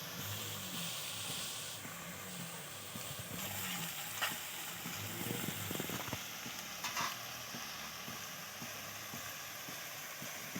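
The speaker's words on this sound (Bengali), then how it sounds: "দেখো কি সুন্দর তেলটা বুজবুজি করছে" Shredded potatoes deep frying in bubbling oil give a steady, fairly loud sizzle and hiss with soft stirring scrapes and occasional crackles, no voices.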